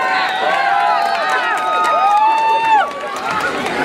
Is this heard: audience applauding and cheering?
yes